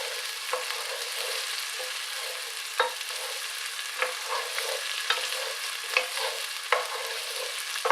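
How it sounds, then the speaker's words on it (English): Onions fry in a pan for tomato soup, a continuous sizzle broken by the scrape and clack of a utensil stirring through them every second or so. "it's starting to cook nicely. You can tell the onions are going ever so slightly brown"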